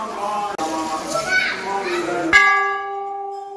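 A large temple bell hanging at a crowded shrine is struck once with a loud, close clang that rings on and decays, following chatter and children's voices in a busy space.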